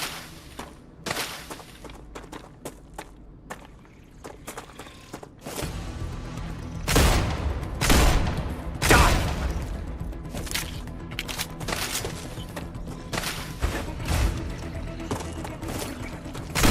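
Rapid bursts of gunfire in a sci-fi video game as blue alien bugs are shot, loud crackling volleys that grow heavier midway, with a few thumps between them.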